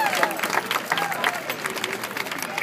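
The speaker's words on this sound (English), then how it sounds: "let's compliment our show pleasure riders with your applause." An arena crowd at a horse show applauds show pleasure riders, dense continuous clapping with scattered cheers, loud and close, with a faint voice in the background.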